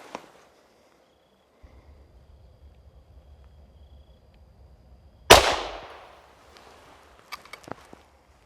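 A single sharp gunshot from a Ruger LC Carbine in 5.7x28mm, fired at an outdoor target range, loud and near, with a quick decaying ring, set against quiet background rumble and a few faint clicks afterward.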